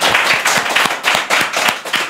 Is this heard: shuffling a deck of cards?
no